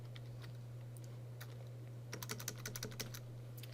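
Computer keyboard typing over a steady electrical hum: a few faint early keystrokes, then a quick run of crisp key presses in the second half, with no voices.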